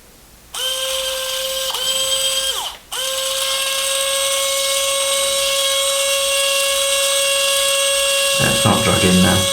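A loud, steady high-pitched whine of a drill boring into thick brass rod, briefly stopping and restarting, then grinding with rattling near the end.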